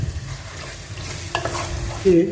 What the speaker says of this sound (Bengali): সবগুলো উপকরণ অ্যাড করার পরে ভালো করে মিক্সিং করে নেবেন।